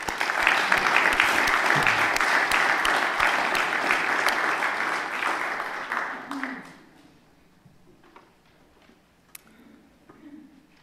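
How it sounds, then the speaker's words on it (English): A conference crowd applauds loudly and steadily for several seconds, then the clapping fades out, leaving a quiet room with faint stray noises. "let's have a round of applause for the Tinsleys."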